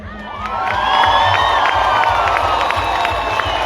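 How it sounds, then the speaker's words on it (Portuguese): A festival crowd at an outdoor music show on Baía das Gatas cheers, whoops and shrieks in a loud, sustained roar that swells and stays high, with scattered clapping mixed in. "Vocês não aplaudiram a minha família?"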